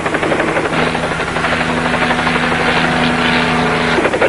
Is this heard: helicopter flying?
yes